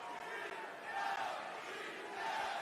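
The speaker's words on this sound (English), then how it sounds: "The fans start cheering something." Wrestling crowd in a Philadelphia arena roars and chants steadily throughout, a dense wash of many voices with swelling peaks during a Roman Reigns versus CM Punk promo.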